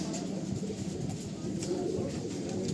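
Fulsira pigeons coo in a loft at Ichchapur, a low, soft murmur of overlapping cooing that continues steadily and close.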